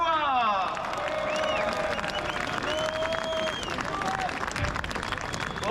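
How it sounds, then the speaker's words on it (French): A large crowd at an outdoor peace march in Paris applauds and cheers for Charles-Henri Gallois, a thick, continuous roar of clapping with whistles and shouts mixed in, loud and steady throughout. "un tonnerre d'applaudissements pour Charles-Henri Gallois"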